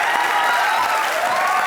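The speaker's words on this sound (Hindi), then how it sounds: "मेरे दोस्त जॉन इब्राहिम के लिए जोरदार तालियां हो जाएं।" Studio audience on the Indian comedy show Comedy Nights Bachao breaks into loud, dense applause that sweeps steadily through the room from start to finish, with no voices cutting through.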